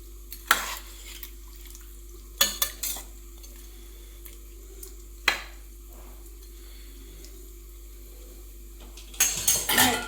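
Local chicken meat frying and being stirred in a kadai over a very low flame, with sparse metal scrapes and clinks of a spatula against the pan and a soft sizzle underneath, alone without talk.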